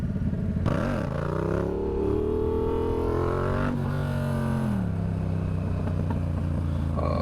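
A Yamaha MT-07 motorcycle engine revs hard and holds its throttle through a wheelie attempt, a loud, close, sustained drone whose pitch climbs, levels off and then drops, with no talking over it.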